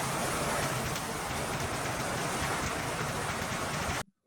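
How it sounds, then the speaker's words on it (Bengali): Steady rain pours down in a dense, even hiss with no voices, then cuts off abruptly near the end. "বৃষ্টি।"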